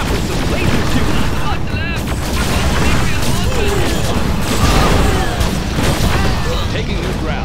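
Laser weapons firing in C&C Generals Evolution with the USA Laser General, dense overlapping zaps and blasts amid explosions and battle noise, with unit voices speaking over it.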